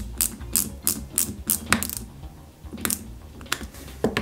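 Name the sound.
screwing a screw into a 1/8 scale model car kit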